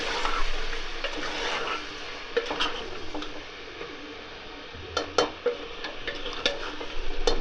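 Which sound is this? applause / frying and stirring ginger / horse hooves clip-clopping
frying and stirring ginger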